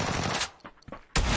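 Rapid automatic gunfire from a shooter video game, loud bursts at the start and end with brief quieter pops in between.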